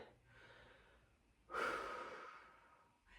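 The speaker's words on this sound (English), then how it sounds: "Big breath in." A single deep breath drawn in slowly during a relaxed standing stretch: a close, airy inhale that swells and then fades, with no talking.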